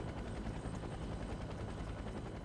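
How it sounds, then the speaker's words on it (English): Helicopters in the video game Trauma Team give a steady, dense rotor drone that fills the whole clip at an even, close loudness. "your helicopter has been surrounded by this helicopters."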